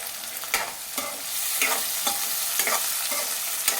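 Onions cook in a pan for carrot curry with a steady sizzle and regular scraping stirs, close and fairly loud.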